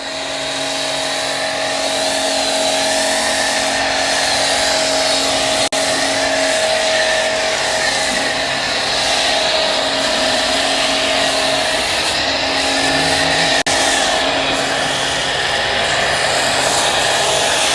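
A budget home car pressure washer sprays thick foam over a car, its motor giving a loud, steady whine with a broad hiss of spray that runs unbroken and close by throughout, with no talking.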